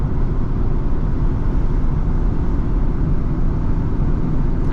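A 2009 Nissan 370Z Touring with a 6-speed manual gearbox, on the move: a loud, steady engine and road drone with constant low rumble and no voices.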